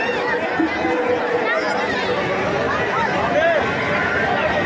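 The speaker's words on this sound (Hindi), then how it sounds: "जहाँ झूला लगा हुआ है वहाँ कितनी भीड़ है देखिए" Dense crowd chatter fills a Dussehra fair in Armapur, Kanpur, near a busy swing ride, a steady close babble of many voices with no pauses.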